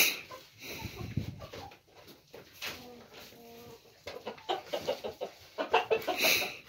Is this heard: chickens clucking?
yes